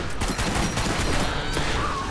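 Rapid revolver gunfire in the Borderlands video game, a dense, loud burst of overlapping shots with no pauses and no voices.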